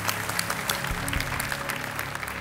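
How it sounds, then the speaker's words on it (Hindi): A studio audience on the game show Kaun Banega Crorepati applauds steadily, a dense wash of clapping hands that holds at an even level throughout. "तालियों के साथ इनका स्वागत"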